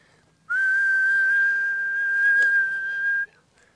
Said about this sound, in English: I want a monotone whistle through the whole swing.